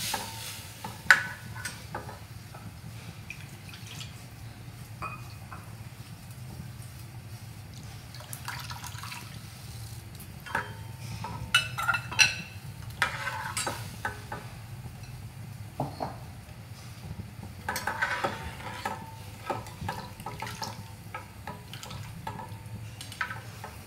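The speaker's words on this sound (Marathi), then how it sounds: "त्यानंतर आपण ताक आणि डाळीचे पीठ टाकलेले होते, मिक्स केलेले होते, ते याच्यात टाकायचे." Buttermilk and gram flour batter poured into a hot kadhi tempering and stirred, heard as soft liquid sloshing, scraping and intermittent light sizzle, fairly quiet and close with no speech.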